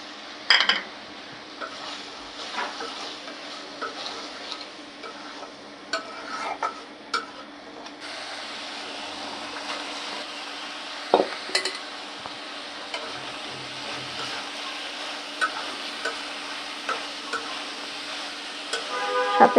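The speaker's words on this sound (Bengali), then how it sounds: "এবার মটরশুঁটি দিয়ে দেব।" Peas go into fish masala in a pan and are stirred, giving soft scraping and light clinks of a spoon against metal under a low steady hiss, with scattered taps throughout a fairly quiet, close kitchen scene.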